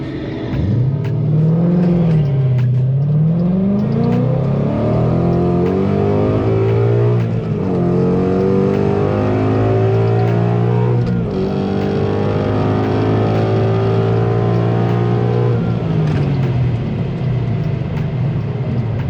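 A stock Volvo V60 Polestar launches hard in first gear, its engine note climbing and sweeping through revs in loud, sustained acceleration with gear-change dips, heard from inside the car with no talking.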